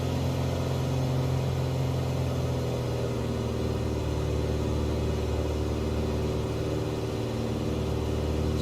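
Simulated single-engine propeller drone of a Piper PA-28R Arrow III in Microsoft Flight Simulator 2020, a steady, loud, continuous hum with a faint shift in pitch as the propeller setting changes.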